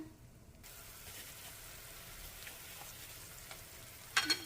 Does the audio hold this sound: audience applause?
no